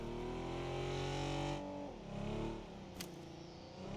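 Car engine revving in PUBG Battlegrounds, a loud sustained roar that holds steady, drops in pitch as the throttle eases, then lingers at a lower idle-like drone, with a brief sharp click near the end.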